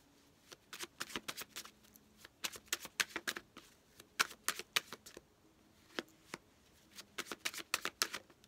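Tarot cards are shuffled by hand in quick, rapid riffles and taps that come in clustered bursts with short pauses, close and fairly quiet, with no talk.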